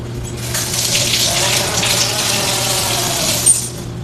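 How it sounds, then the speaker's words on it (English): Fresh ginger being washed under a kitchen faucet, with a steady loud gush of running water splashing into the sink throughout and a small knock near the end. "Wash the ginger. So we're about to wash this."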